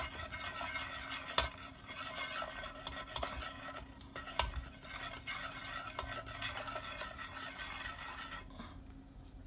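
Spoon stirring a flour, onion and salt mixture in a pan for a broccoli-shrimp lasagna sauce, a steady close scraping swirl with faint sizzling and a couple of sharper clinks against the pan, no talking.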